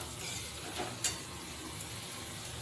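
Boiled kidney beans frying with spices in a pan, a soft continuous sizzle with a faint stir and one light clink, quiet and close.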